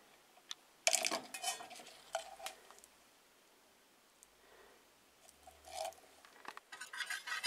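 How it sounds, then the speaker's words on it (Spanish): A whisk stirs sucralose sweetener into a light gelatin dessert mixture, making faint, intermittent bursts of clinking and scraping against the bowl, with quiet pauses between strokes and no talking. "lo batimos muy bien, para que el endulzante se disuelva por completo en el postre"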